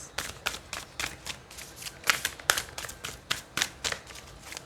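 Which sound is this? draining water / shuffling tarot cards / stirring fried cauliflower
shuffling tarot cards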